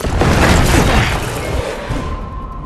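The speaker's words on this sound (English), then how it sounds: "Commencing with bombing." Bombing explosions rumble through a Resident Evil 6 battle scene, a loud sustained roar of blasts and debris that fills the whole stretch and eases slightly toward the end.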